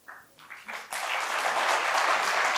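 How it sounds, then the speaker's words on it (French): Applause from an audience of deputies in a French-speaking assembly, beginning as a few scattered claps and swelling after a moment into steady, dense clapping that carries to the end. "Pourquoi vous applaudissez?"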